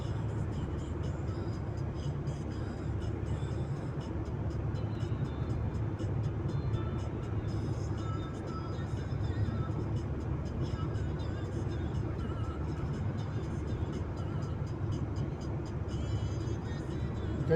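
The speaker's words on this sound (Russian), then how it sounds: "Можно маленько газку прибавить." A car accelerating along a winter road through a forest, with steady low engine and road rumble filling the whole stretch and someone talking over it.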